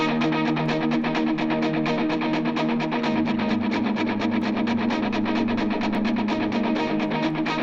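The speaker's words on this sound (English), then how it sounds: "for the guitar tones for this song, I was using my Line 6 Helix using my Church Ace preset" Two electric guitars run through a Line 6 Helix worship-style preset play a steady, driving distorted rhythm with a fast even strum pulse, loud and close with no voices.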